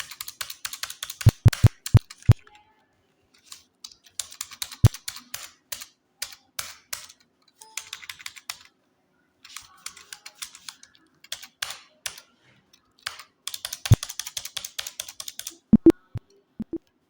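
Computer keyboard typing while entering vouchers in accounting software: bursts of quick close keystrokes with sharp, louder Enter presses standing out, pauses between runs, no speech.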